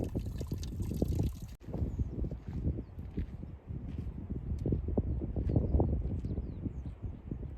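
Cold, clear mountain stream water rushing steadily along a Himalayan trek, a close, continuous broadband flow with small splashing surges throughout.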